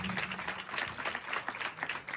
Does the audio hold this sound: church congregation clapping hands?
yes